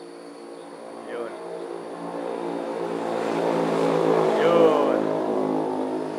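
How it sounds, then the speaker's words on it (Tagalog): A motorcycle passes along a hometown street, its engine hum swelling gradually and peaking near the end before easing, under a voice speaking. "Idadaan na ang motor."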